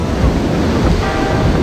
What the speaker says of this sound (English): big waves are happening in Punta Cana.